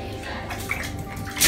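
A small child splashes and sloshes water in a home bathtub, a continuous close wet churning with drips and a brief louder splash at the end.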